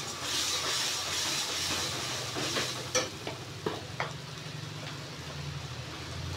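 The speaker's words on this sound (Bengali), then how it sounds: "মশলাটা আমি আস্তে করে তেলের মধ্যে দিয়ে দিচ্ছি।" Spice paste frying in oil, a soft steady sizzle under a few scraping stirs and light clicks, close and fairly quiet.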